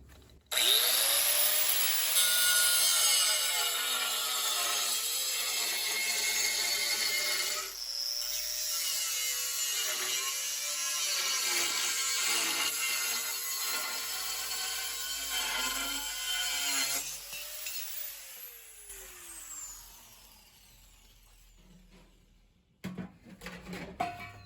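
A right-angle grinder cuts metal during a charger install on a VW Mk1 electric conversion, running loud and continuous for about fifteen seconds with its whine dipping and rising, then spinning down, leaving faint clanks at the end.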